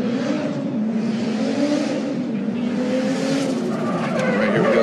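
Chelsea Denofa's BMW drift car in Formula Drift qualifying at Long Beach revs hard and skids along the wall, a loud, sustained engine roar with tyre screech that holds steady and rises slightly at the end.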